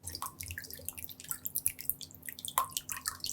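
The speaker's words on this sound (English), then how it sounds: "Now to that, we're gonna add a little balsamic vinegar," Balsamic vinegar drizzled onto a watermelon and feta salad, giving soft scattered drips and light wet taps with a couple of sharper splashes, close and quiet, with no talking.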